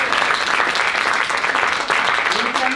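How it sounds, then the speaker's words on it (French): An audience applauds Léa at a teenage theatre performance, steady dense clapping filling the room throughout, loud and continuous with no pause. "on l'applaudit Léa évidemment"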